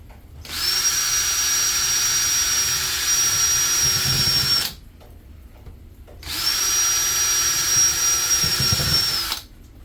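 A power drill whines steadily in two long bursts of about four seconds each, drilling holes for a homemade worm bin, separated by a short pause, loud and close.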